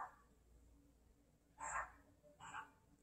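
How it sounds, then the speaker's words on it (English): A neighbor's dog barks twice from some distance, two short muffled woofs about a second apart, faint against a quiet indoor background. "And my other neighbor's dog's barking."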